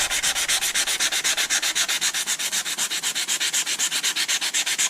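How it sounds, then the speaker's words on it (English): A Detroit 2-53 diesel engine part is lightly hand sanded in quick, steady back-and-forth strokes, a close, even, rhythmic scratching that continues throughout without talk. "And give it a light sanding to reveal any cracks."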